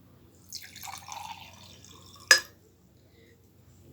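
Water from a jug trickles into small cups in a brief, soft pour lasting about a second and a half, followed by a single sharp clink, then near silence.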